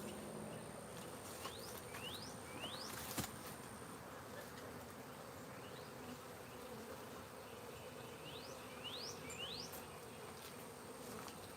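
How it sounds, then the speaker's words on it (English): Bees from several active beehives buzz steadily outdoors, a continuous insect drone that runs throughout, with a few faint high bird chirps overhead and no talking. "Yep, all the hives are still active."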